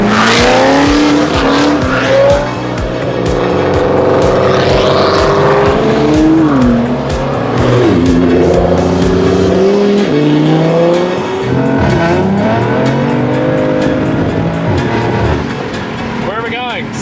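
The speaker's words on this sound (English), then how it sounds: "The F80 looks so good in this color. It sounds really good too." BMW F80 M3 revving and accelerating hard through the gears, its engine rising and falling in pitch, loud and close, with tire noise and people talking and shouting over it throughout.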